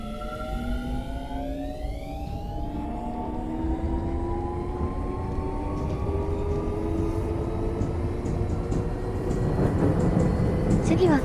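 Keio 7000 series electric train departing in the BVE5 train simulator, motor whine rising in pitch through several stepped tones over steady rail rumble, loud and close, with announcements early on.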